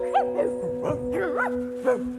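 Several dogs bark and yip in quick bursts, some higher-pitched and whiny, over a steady low hum; fairly close.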